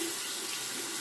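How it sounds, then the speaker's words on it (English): Steady tap water runs into a sink to rinse a razor during a wet shave with a PAL adjustable razor, a continuous even hiss heard alone for about a second at close range. "I'll just go ahead and rinse the razor there and run some water"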